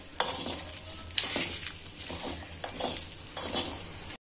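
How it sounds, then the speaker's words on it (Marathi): Chilli pieces fry gently in a pan over low heat, a soft sizzle punctuated by several sharp scraping and clinking stirs against the metal, each burst close and clear. "हे घालत आहे आपण मिरच्यांचे तुकडे. आणि छान हे मंद मंद भाजून घेऊ."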